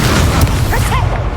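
A Confringo fire-blast spell explodes in the Hogwarts Legacy video game, a loud, dense booming burst that fills the moment, with faint voice-like tones trailing through it.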